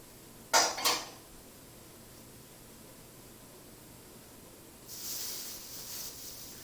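Brussels sprouts being stirred in a pot on a stove: a sharp metallic clank of a spoon against the pot early on, then a steady sizzle-like hiss, and a second scraping stir near the end.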